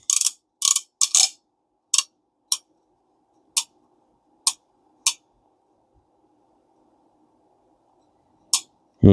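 Vintage Alvey 40 C1 fishing reel drag clicking after cleaning and lubrication, sharp isolated ratchet clicks, a quick cluster then single spaced clicks with pauses, close and crisp in otherwise near silence.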